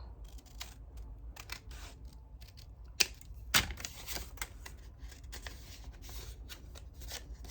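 Scissors snip through candy wrapper paper during a paper craft, making a run of close, crisp clicks and rustles with two sharper cuts in the middle.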